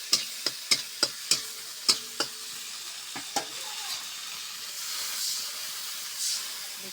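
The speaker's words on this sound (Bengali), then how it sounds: "একটু সামান্য জল দিয়ে মশলাটা কষা চলছে" A spatula knocks sharply against a pan several times in an uneven rhythm while a spice paste with tomato and green chilli is fried and stirred. A soft sizzling hiss swells toward the end.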